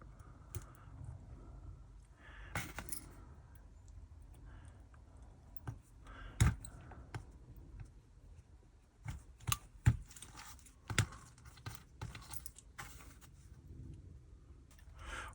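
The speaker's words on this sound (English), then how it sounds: "then we do up the screws." Small clicks and scrapes of screws being done up on a Hornby James model locomotive from Thomas the Tank Engine, quiet and irregular, with sharper taps scattered through and no talking.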